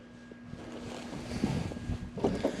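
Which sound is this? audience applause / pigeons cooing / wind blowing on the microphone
wind blowing on the microphone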